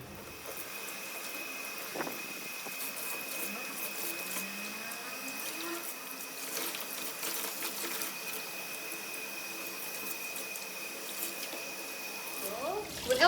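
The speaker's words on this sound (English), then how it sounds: "So after draining out the dirty water, we're going to rinse the wig." Tap water runs in a steady, even stream while a wig is rinsed, a close continuous hiss lasting throughout.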